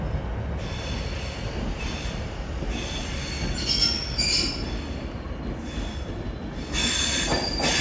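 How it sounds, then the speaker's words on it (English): Avanti West Coast Pendolino train passing through Carlisle station, a steady rumble of wheels on rail with high-pitched flange squeals rising and fading several times over the roar, fairly close and continuous. "now we have another Avanti West Coast Pendolino"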